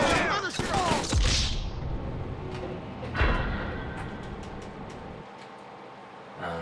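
Bursts of automatic gunfire in Grand Theft Auto V, loud rattling volleys with sharp impacts, then scattered single shots that trail off into quieter game ambience.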